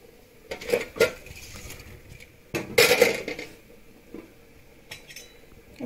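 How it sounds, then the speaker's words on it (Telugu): Homemade dough balls for Telangana rail palaram drop into a bowl of turmeric-spiced mixture, making a few sharp clattering knocks against the bowl amid lighter handling clinks, with the loudest cluster near the middle. "ఇదే టైంలో మనం చేసుకున్న బాల్స్ని ఇందులో వేసేయాలి"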